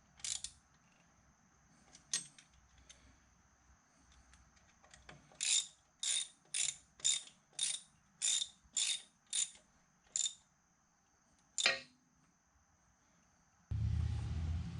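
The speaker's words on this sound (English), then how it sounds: "I'll use a hex key driver and a ratchet to tighten down the set screws" A ratchet with a hex key driver tightens pulley set screws on a K&T milling machine, giving a series of about ten crisp clicking ratchet strokes, quiet and close, with a low rumble at the end.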